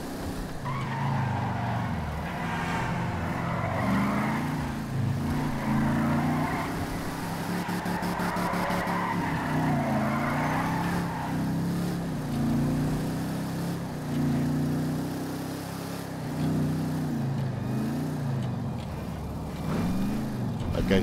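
A 1970 Chevrolet Pro Touring drag car with 945 horsepower roars and drifts in GTA V, its engine droning steadily with skidding tire noise throughout, while a voice talks over it the whole time.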